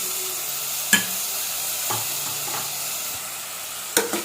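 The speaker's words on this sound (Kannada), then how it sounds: "ಫುಲ್ ಇದು ಹಸಿ ವಾಸನೆ ಹೋಗಿ ಸಾಫ್ಟ್ ಆಗೋವರೆಗೂ ಫ್ರೈ ಮಾಡ್ಕೊಳ್ಳಿ" Masala with turmeric and grated coconut frying in a pan for palak paneer rice, giving a steady soft sizzle with a few sharp scrapes and clacks of a spoon stirring, close by, with no voices.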